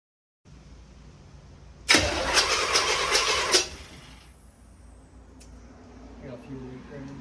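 A Chevy 350 V8 cranked by its starter, a loud whirring crank of about two seconds that catches and drops to a lower running rumble, close by, with faint voices in the background.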